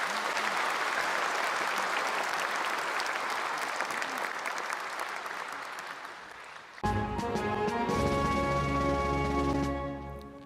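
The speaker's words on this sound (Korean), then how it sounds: "오희옥 애국지사께 여러분 다시 한번 큰 박수 부탁드리겠습니다" An audience at a national Liberation Day ceremony gives loud, sustained applause that runs for several seconds before orchestral music swells in over the clapping.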